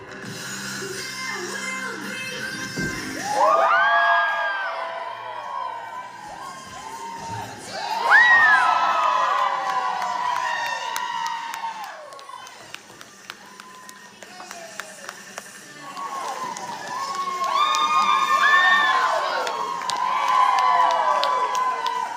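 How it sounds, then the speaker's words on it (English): Students at a 2025 campus drag show cheer, shout and whoop in loud surging waves, with high excited voices rising in bursts, some scattered clapping, and brief lulls between swells. "Students filled the room to cheer on performers and celebrate self-expression."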